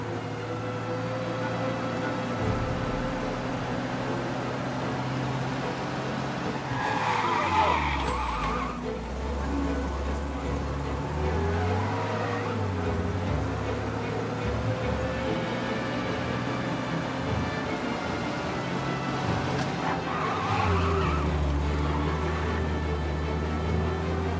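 Car engine in Mafia: Definitive Edition roaring at speed with tire squeals and skids, continuous and loud over a steady backing track.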